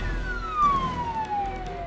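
An ambulance siren wails with a sweeping tone during a road accident response in Portugal's capital, loud and close and steady over the engine rumble, with no talking.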